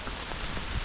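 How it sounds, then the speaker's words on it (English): Steady rain falling on a wooded hiking trail in the Ouachita mountains, a brief, even hiss of close drops pattering on leaves and ground with no voices. "Alright, update, it's still raining."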